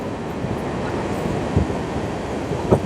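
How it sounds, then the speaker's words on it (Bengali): Sealdah–Puri Duronto Express rolling through Cuttack Junction, a steady low rumble of the moving train with a few soft knocks, heard from on board under wind. "বেরিয়ে গেল আমাদের ট্রেন।"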